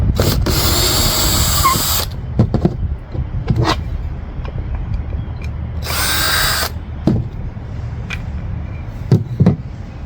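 A power drill drives a pocket hole screw in two loud, close whirring bursts, each a second or so, separated by clicks and small handling knocks.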